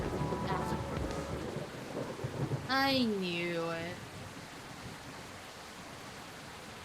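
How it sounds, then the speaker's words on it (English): Rain and rumbling thunder from a stormy night scene in the video game Coffee Talk, a soft steady wash of noise beneath a short spoken line and a brief tonal sound effect. "The rain sounds is rather nice though."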